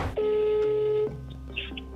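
A telephone call is being dialed, heard as one long steady electronic tone that cuts off abruptly, then quieter faint tones and clicks on the line.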